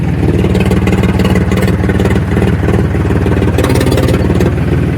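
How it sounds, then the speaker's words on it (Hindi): A tractor engine with a turned, modified silencer runs steadily and loudly, giving a dense, rapid, even exhaust thump throughout, close by and with no voices. "साइलेंसर घूमने के बाद अलग ही साउंड आता है।"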